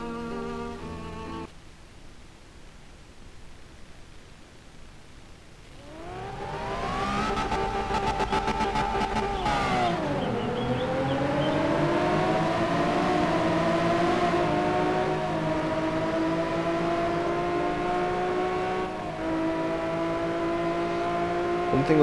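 A racing car lapping a circuit in the game Corona Motorsport, its engine revving up through the gears in rising whines, dropping at each shift and climbing again, loud and steady for the full lap.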